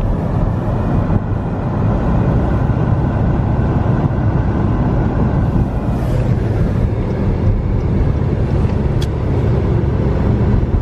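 A warmed-up car idles on a freezing winter day near Lake George, New York, giving off a loud, steady low rumble with wind buffeting the microphone throughout. No one speaks.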